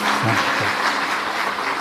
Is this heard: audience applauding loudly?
yes